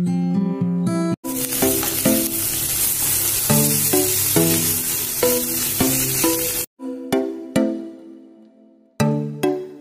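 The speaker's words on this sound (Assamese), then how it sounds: "এতিয়া একেলগে মই ভাজি ল'ম" Onions, capsicum and cabbage sizzle and hiss as they fry together in a pan. Loud musical notes play over most of the frying, which breaks off briefly near the end.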